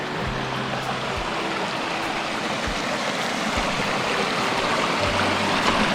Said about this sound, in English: it's a cool little brook waterfall right here